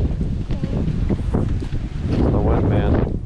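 Wind gusting around an outdoor garage sale, a steady rushing roar buffeting the microphone throughout, swelling louder in the second half, with people talking faintly underneath.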